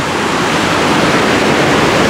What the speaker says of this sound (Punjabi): ਇੱਕ ਹੋਰ ਵਾਟਰਫਾਲ ਆ ਗਿਆ ਜੀ ਜਿਹਨੂੰ ਕ੍ਰਾਸ ਕਰਨਾ ਪੈਣਾ ਤੁਰ ਕੇ